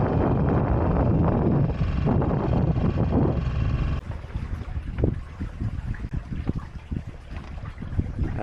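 A sailboat crossing a bay toward the Helford in a fair wind, steady rushing water and wind buffeting the microphone throughout, loud and close, easing to a lighter wash of water halfway through.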